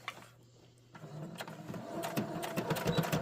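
A sewing machine stitches fabric with Velcro on a small cord keeper project, starting after a quiet pause with a steady mechanical whir and rapid needle clatter that grows louder toward the end.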